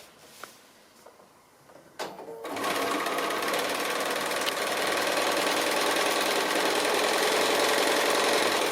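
A sewing machine stitching a foundation pieced quilt block: a few soft clicks and handling knocks, then the motor starts and runs in a loud, steady, rapid whir to the end.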